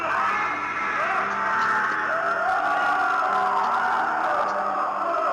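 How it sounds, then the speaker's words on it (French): A faked 'Well to Hell' recording of human screams: a dense, continuous mass of wailing, moaning voices that sounds like a distant, anguished crowd, loud and unbroken throughout. "ce ne sont pas vraiment des bruits normaux, mais plus des cris de désespoir et de tristesse."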